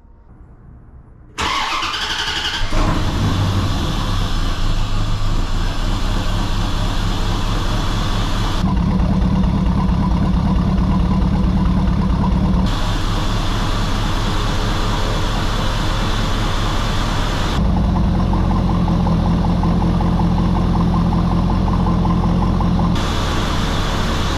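A 1994 Chevrolet Corvette C4 with newly replaced fuel injectors starts and then runs steadily. The engine holds a loud, close idle with a low rumble, and its tone shifts slightly every few seconds. No one speaks.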